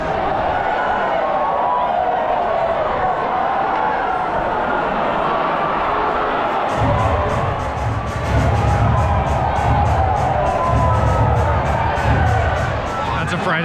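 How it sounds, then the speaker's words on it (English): A Friday night crowd at an MLB baseball game swells into roaring cheers and whoops as fans do the wave, a broad wash of voices that grows louder and denser partway through, with nearby chatter mixed in. "That's a Friday night crowd for you."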